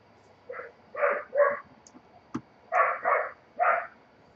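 A dog barks in several quick bursts, two or three at a time, close by indoors in a small house, with a sharp click in the pause between the groups.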